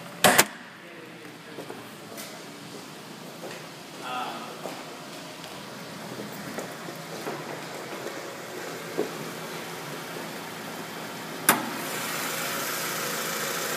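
A 2002 Toyota Camry LE engine idling steadily at low volume, a constant hum with a few faint clicks and knocks over it.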